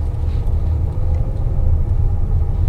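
A 2023 Hyundai Palisade with a naturally aspirated V6 and eight-speed gearbox accelerates, heard from inside the cabin as a loud, steady low rumble of engine and road noise.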